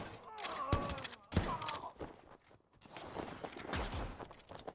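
Pistol gunshots in the video game RICO, a few sharp cracks in quick succession mixed with thuds, footsteps and someone talking over the action.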